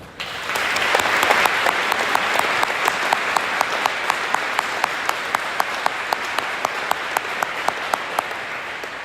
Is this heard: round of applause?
yes